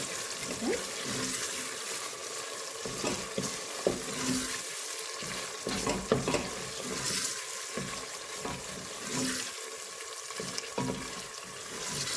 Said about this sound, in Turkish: Salçamızı da güzelce kavuracağız